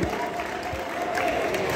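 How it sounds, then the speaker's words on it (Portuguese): Applause from the crowd at a quadrilha junina festa junina performance in an arraial, moderate and steady, with some crowd murmur and faint voices underneath. "uma salva de palmas para vocês"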